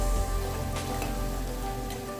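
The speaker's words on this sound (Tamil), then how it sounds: "இஞ்சி பூண்டு விழுதை சேர்த்துட்டு இதை அடி பிடிக்காமல் இருக்கிறதுக்கு மிதமான தீயிலே வச்சு நல்லா பச்சை வாசனை போகிற வரைக்கும் வதக்கி விட்டுக்கணும்." Ginger garlic paste sauteing over medium heat in a pan for mutton kuzhambu, giving a steady, close, hissing sizzle that holds evenly throughout with no talk.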